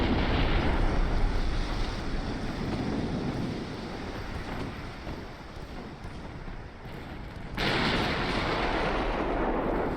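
In a naval battle video game, a battleship's guns fire armor-piercing shells, making a dense, booming roar with wind-like noise that swells sharply again near the end.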